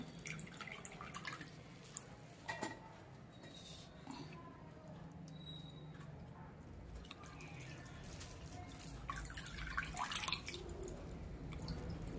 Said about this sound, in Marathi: पूर्ण मी पाणी त्यातनं पिळून घेते